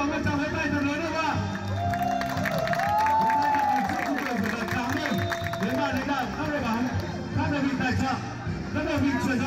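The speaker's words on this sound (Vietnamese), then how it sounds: "xin mời tất cả quý vị có mặt tại sân Nam Bình hãy dành cho bốn đội bóng một tràng vỗ tay thật lớn" A crowd applauding four football teams at Nam Binh stadium before an amateur match, scattered clapping and chatter under an announcer's voice.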